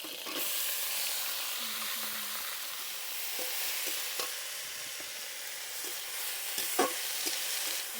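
Banana flower stir-fried in a pan with fried chopped tomato, a steady close sizzle with scattered scraping stir clicks and light knocks throughout.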